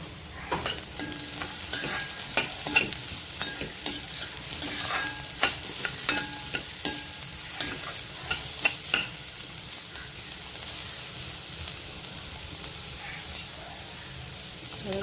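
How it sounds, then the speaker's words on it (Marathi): Green beans stir-fried with onions browned to a light pink in a pan, for veg Schezwan fried rice. A steady sizzle runs under repeated scraping stirs with a spatula, and no voices are heard. "कांदा थोडा गुलाबी झाला आहे आपला आता त्याच्यावर आपण ही फरसबी टाकणार आहे"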